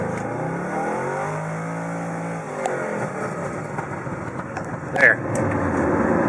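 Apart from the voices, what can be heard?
2006 Pontiac GTO engine revving to shift light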